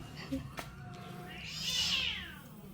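A cat eating fish scraps lets out a single drawn-out meow, rising then falling, after a few soft clicks and faint background noise.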